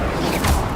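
An Incendio fire spell cast in Hogwarts Legacy gives a short, loud whooshing burst of flame over steady game noise.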